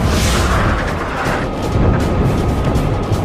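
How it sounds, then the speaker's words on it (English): Flak and anti-aircraft fire over Hanoi during aerial combat between Crusaders and MiGs, a dense, rumbling barrage of booms and bursts running continuously without a break. "flak, anti-aircraft fire, and the main event, Crusaders and MiGs in full throttle aerial combat"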